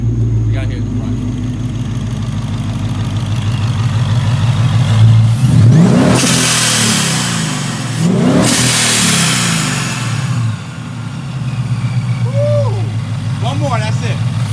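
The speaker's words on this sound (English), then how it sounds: "This car is extremely loud." A Vortech-supercharged 2018-2020 Mustang GT V8 idles loudly up close, then gives two hard throttle blips that swell and drop away, with people talking and shouting nearby.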